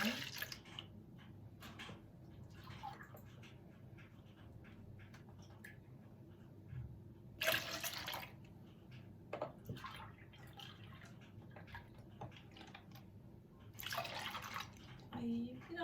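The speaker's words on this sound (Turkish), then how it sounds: "3 su bardağı sütümüzü bir kabın içerisine boşaltıyorum" Three glasses of milk poured into a bowl for a trileçe soaking sauce, a soft, steady liquid stream in a quiet kitchen with brief louder splashing bursts, fairly close.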